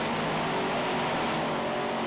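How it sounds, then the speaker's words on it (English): A Top Fuel dragster at Santa Pod Raceway gives a dense, continuous engine roar that stays loud and steady across the whole short stretch, broad and saturated with no clear breaks and no talking. "Top Fuel Dragster, round one."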